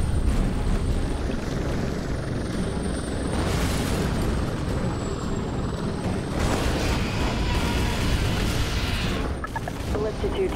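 Helicopter rotor roar in the video game Prototype 2, a loud continuous chopping drone with bursts of explosions and gunfire layered over it, while voices talk.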